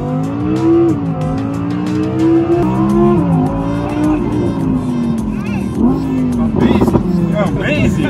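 An Audi R8 V10 engine accelerating hard, a loud rising and falling engine note through repeated gear changes, with faint tire noise near the end.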